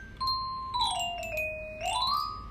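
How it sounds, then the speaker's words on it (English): Bright, bell-like synthesized tones from an iOS music app, resembling a vibraphone, sliding down and back up in pitch with a shimmering ring over about two seconds, alone and moderately loud. "I think it's like a vibraphone or something"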